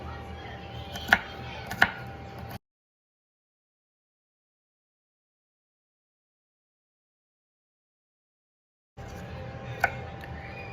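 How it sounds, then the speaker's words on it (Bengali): Knife chopping garlic on a board, a few sharp close knocks standing out over background noise, followed by a long stretch of silence and then more faint chopping. "হয়ে গেছে আমার সমস্ত রসুন চপিং করা"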